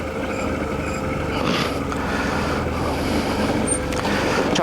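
A motorcycle engine idles steadily outdoors in a quiet parking lot, a constant low rumble mixed with wind noise that holds through to the end.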